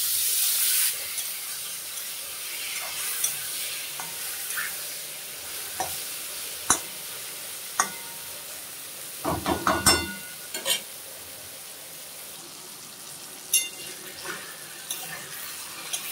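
Bombay duck fish with salt and turmeric frying among onions in a pan, a steady soft sizzle broken by sharp clacks and a cluster of stirring scrapes near the middle.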